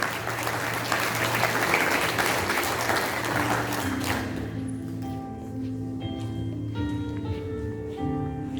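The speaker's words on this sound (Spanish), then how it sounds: "Den ese aplauso fuerte a Dios" A church congregation at a Sunday service claps loudly for about four seconds, the applause then dying away as sustained organ or keyboard notes carry on alone.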